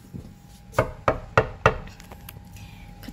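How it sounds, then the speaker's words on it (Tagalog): A door knocked four times in quick succession, sharp close raps evenly spaced, followed by faint background noise. "Katok tayo mga be."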